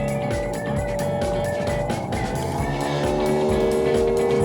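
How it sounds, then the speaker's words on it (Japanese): A Hope mini boat's outboard motor running steadily underway, a continuous loud hum with a high whine layered over churning water and wind, with no voices. "次は航行中の映像だよ"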